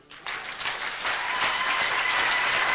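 A church congregation breaks into applause during a sermon, dense clapping that swells quickly and holds steady, filling the room.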